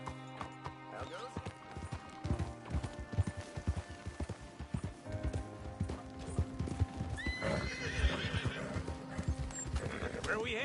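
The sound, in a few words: horse in Red Dead Redemption 2 video game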